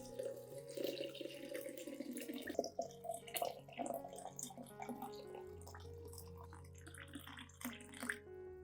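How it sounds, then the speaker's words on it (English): About 500 ml of warm water poured from a container into a plant feeding mix, a steady faint trickle and splash that runs on for several seconds with light dripping, quiet and close. "After that, I add 500 milliliters of warm water"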